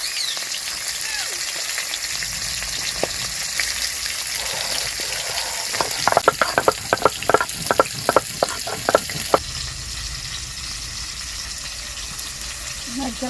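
Japanese puti fish frying in a pan for a fish curry, with a steady sizzle throughout and a run of sharp crackles and pops in the middle, close and moderately loud.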